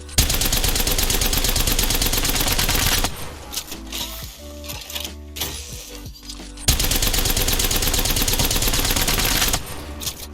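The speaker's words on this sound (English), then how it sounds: "I'm shooting a wall here and doing a recoil test." Rapid automatic gunfire in Apex Legends, a weapon emptied into a wall for a recoil test, loud dense bursts of shots with a quieter gap between two firing stretches.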